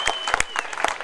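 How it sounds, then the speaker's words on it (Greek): Brief burst of audience clapping at an auction, a quick run of sharp, close hand claps over murmured room noise. "ένα χειροκρότημα και συνεχίζουμε"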